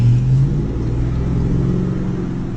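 A car running on hydrogen and oxygen injection pulls away, a loud, close, steady low engine rumble with a rising tone at the start and no voices.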